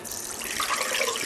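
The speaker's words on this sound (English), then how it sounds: "the flow is pretty good from that little tiny PEX water connector" Water gushes steadily from a re-purposed water filter faucet fed by a small PEX connector, a continuous close hiss of full flow with no pauses.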